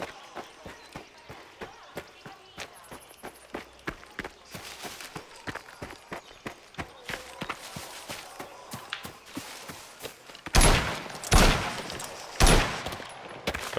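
Gunfire sounds from the video game Mafia The Old Country, a steady run of regular sharp shots over about ten seconds, followed by a few louder, heavier blasts near the end.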